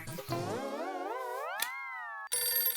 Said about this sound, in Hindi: माधवी का फोन है